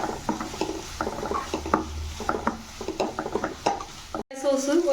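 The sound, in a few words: stirring cauliflower in a pan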